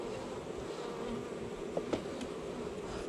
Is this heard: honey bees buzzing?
yes